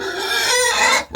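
A farm pig on a cold day gives a short, close squealing grunt, a single vocal burst lasting about a second that cuts off abruptly.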